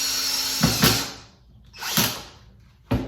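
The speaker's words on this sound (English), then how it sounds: "2 screws go through the belt and into the track guide on the other side." A power drill drives screws through a track belt into the track guide of an M18 Hellcat E7 tank track build, in three short, close whirring bursts separated by brief pauses.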